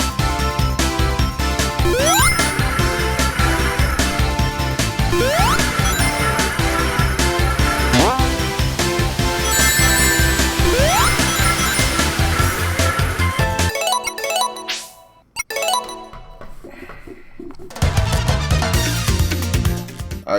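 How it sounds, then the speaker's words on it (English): Sonic Mania gameplay with Silver's psychic power effects from a mod, zapping swoops layered over busy game music and effects, loud, with a brief dropout near the end before the music returns. "sound effects for using his psychic powers that was actually from another mod"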